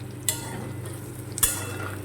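Potatoes frying in a pan with dried red chillies give a steady close sizzle, with two sharp utensil clacks against the pan as the food is stirred.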